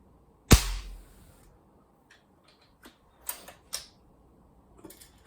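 A custom 499B BB gun fires a single sharp, loud crack at the start, then quiet with a few soft clicks and handling knocks from the rifle.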